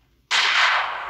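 A single sharp gunshot-like blast in Minecraft bursts in after a brief quiet and rings with a long bright decay.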